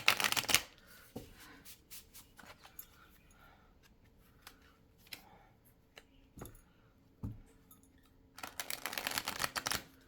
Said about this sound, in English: That is a beautiful shuffle on this deck.